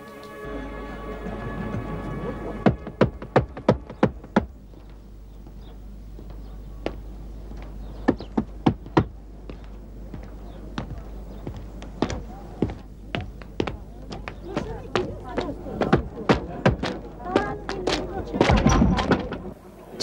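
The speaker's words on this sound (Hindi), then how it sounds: "खटखटाऊं दरवाजा?" A door is knocked on in a dramatized scene, with bursts of sharp raps in several groups amid dialogue and background noise, fairly close and distinct.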